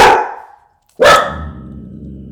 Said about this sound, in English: this is how dogs communicate. They're just talking and excited.